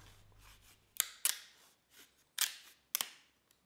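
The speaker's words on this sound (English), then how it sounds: "Now you split it in half again." Bamboo is split in half with a small knife, giving a few sharp, crisp cracks and snaps in short bursts, close and quiet, with brief pauses between them.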